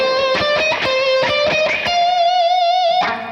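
Electric guitar plays a melodic line from a solo: a run of quick picked notes, then a long sustained note with wide vibrato. Loud, close and clean, with no voices.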